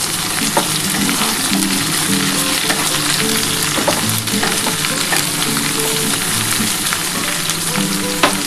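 Potatoes and vegetables for a Bengali ridge gourd and potato poppy-seed dish fry in a pan with a loud, steady, close sizzle, broken by scraping and clattering as they are stirred; no one speaks.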